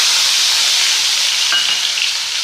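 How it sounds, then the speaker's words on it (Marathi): Cumin and a ground spice paste hit hot oil, making a loud, dense, continuous sizzle close by, with a brief faint clink midway. "यामध्ये आपण थोडेसे जिरे टाकून घेऊयात आणि त्यामध्ये लगेच आपण हे वाटलेलं वाटण टाकून"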